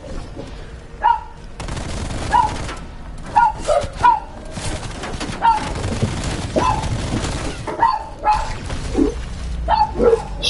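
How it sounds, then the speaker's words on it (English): Pet dogs bark repeatedly and loudly indoors at a visitor, with sharp, irregular barks scattered across the span over a constant background of game noise. "my mom saw him, so the dogs are barking"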